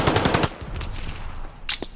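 A short, rapid burst of automatic gunfire in Call of Duty Vanguard, loud and close at the start, then quieter distant shots and a brief final crack.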